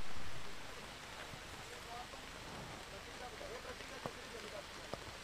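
Heavy rain pours down on an outdoor village cricket semi-final of the Shri Siddheshwar Cup 2025, a steady broadband hiss with a couple of sharp isolated clicks near the end.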